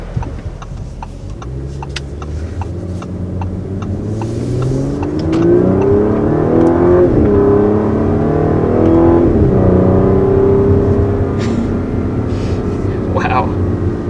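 A 2019 Audi S4 engine revs up through manually selected gears, rising and falling in pitch with several distinct shifts, loud from inside the car while a person talks over it.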